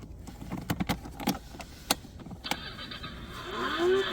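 12V ride-on toy car on a test run: a few sharp clicks and knocks, then the small electric motor starts with a rising whine and keeps running close by.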